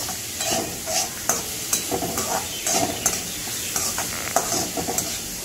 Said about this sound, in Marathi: आता मस्त कांदा पण आपल्याला फ्राय करायचा